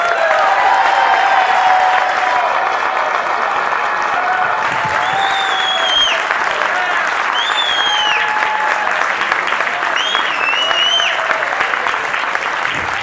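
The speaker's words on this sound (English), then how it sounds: "Give it up for your hometown boy made good, Vivek Ramaswamy." Loud, sustained applause and cheering from a political rally crowd in Butler County, dense clapping throughout with whoops and shouts rising above it.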